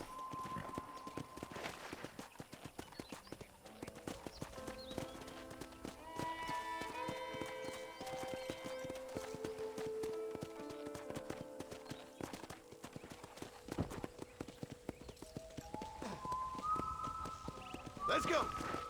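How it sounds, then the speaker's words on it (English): Horse hooves clip-clop at a steady walking pace in the Red Dead Redemption video game, with a whinny and background music under the faint steps, and characters talk over them. "I picked out a fine horse for you. Gee up!"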